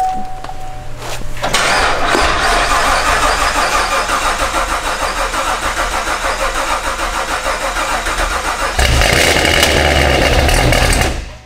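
A 1150 hp Cadillac CTS-V fires up for the first time: a loud crank catches into a roaring, lumpy idle that holds steady, then swells louder as the revs rise near the end.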